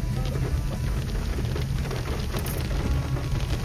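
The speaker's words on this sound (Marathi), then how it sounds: "पाऊस आहे, बारीक आहे, एवढा काय गाडीत येणार नाही" Light rain falls on a car during a drive, a steady, even hiss and patter with a low rumble beneath, continuous throughout.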